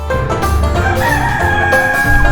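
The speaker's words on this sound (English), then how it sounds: "Can't believe, Natalie, we're having a day trip to go and see some chickens." A rooster crows loudly and close by, with other chickens clucking around it on a farm.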